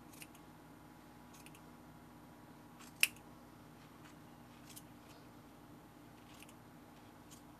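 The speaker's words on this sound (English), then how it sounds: "So just cut those loops." Scissors snip through yarn loops on a boho crochet tassel scarf, one crisp cut standing out among a few fainter snips over quiet background, with no talk.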